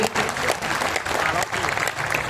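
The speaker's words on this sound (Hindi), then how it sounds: "्रियांशु गजेंद्र अगर आपके मन तक पहुंचे हो तो एक बार जरा मन भर के तालियां बजाइए" A crowd at a comedy poetry recital breaks into dense, sustained clapping, loud and close, with a brief dip partway through before the applause swells again.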